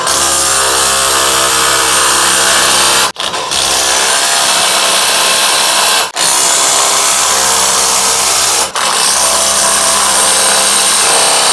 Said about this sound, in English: First test is gonna be with the Ryobi. We're gonna impact all 4 of these on